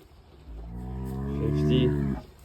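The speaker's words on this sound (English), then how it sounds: "Big cow. Lots of ground beef out of that." A large beef cow gives one long, deep moo lasting under two seconds, rising slightly in loudness before cutting off, close by with light background noise.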